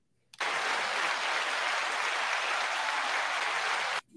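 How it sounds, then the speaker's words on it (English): Applause greeting a show host, a sudden burst of dense clapping that starts abruptly, holds steady and evenly loud for several seconds, then cuts off sharply. "You even get applause and everything."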